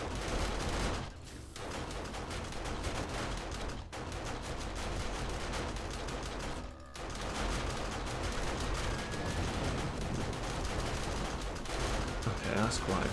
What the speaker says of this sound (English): I just find it quite nice just listening to all the turrets just shoot, doing their job.